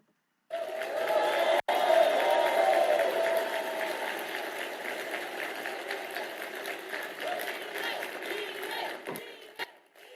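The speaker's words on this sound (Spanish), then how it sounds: "La ovación a Milei." Crowd at CPAC 2024 roars in an ovation for Javier Milei, a dense, sustained wash of cheering and applause filling a large hall for about ten seconds, steady then tapering slightly at the end.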